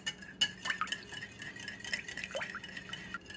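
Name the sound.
beating an egg into a chocolate mixture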